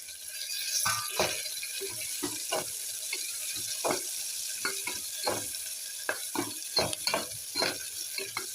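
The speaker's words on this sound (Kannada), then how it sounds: "ಇವಾಗ ಹಸಿಮೆಣಸಿಕಾಯಿ ಹಾಕೋತೀನಿ ನೋಡ್ರಿ ಸ್ವಲ್ಪ" Green chillies fry in hot oil with onion browned for tomato bath, a steady sizzle broken by repeated sharp spatula scrapes and stirs against the pan, close and fairly loud, no voices.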